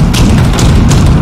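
A grenade explodes in the game Fallout 76 Nuclear Winter, heard as a loud, dense, rumbling blast that fills the whole short moment with no speech over it.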